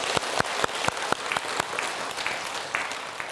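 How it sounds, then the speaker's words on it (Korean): Small group applauding, a few distinct claps close by over a dense patter of scattered clapping, brief and fairly even. "박수 한번 쳐주자고요"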